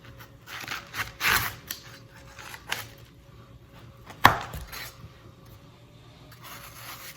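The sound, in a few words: knife chopping fresh watermelon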